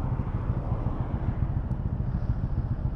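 A motorcycle rides along a road on a morning trip toward Port Dickson, giving a steady, loud engine drone with rumbling wind noise throughout and no talking.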